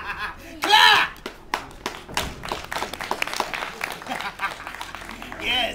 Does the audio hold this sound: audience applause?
yes